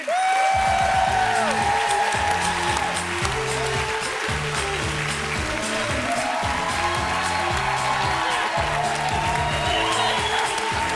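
A studio audience at a televised comedy show breaks into loud, sustained applause that stays dense and even throughout, with tonal music-like layers running underneath.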